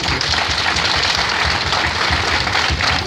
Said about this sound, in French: Je vous prie d'applaudir pour monsieur le maire